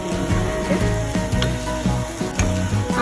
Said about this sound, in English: I'm just going to keep stirring that a little bit more, letting a little bit more of the onions get translucent